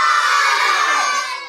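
A crowd of schoolchildren at a live school show cheer and shout together, a loud, sustained burst of high voices that tapers off slightly at the end.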